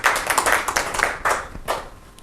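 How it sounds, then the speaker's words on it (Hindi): A brief burst of audience clapping at a Rajasthan Parishad event honouring Sri Ranjeet Dugar, many hands close and lively, fading after about two seconds. "जोरदार तालियां हो"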